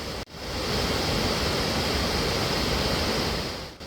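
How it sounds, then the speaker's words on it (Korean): Jiktang Falls in Cheorwon, a low, 80-metre-wide winter waterfall edged with snow-covered ice, pours as a dense, steady roar close by, with a brief break near the start and no voices. "위쪽으로 한국에서는 유일한 광폭 폭포가 보입니다."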